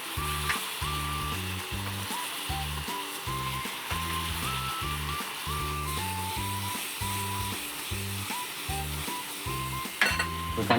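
Chicken dumplings made with grated lotus root sizzle and fry in a pan while their sauce reduces, a dense bubbling hiss with quick rhythmic stirring scrapes throughout and a louder clatter near the end.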